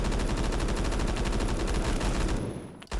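Sustained automatic G36 rifle fire in Roblox Phantom Forces, a dense, loud, unbroken stream of rapid shots that runs for over two seconds before cutting off, with no talk over it.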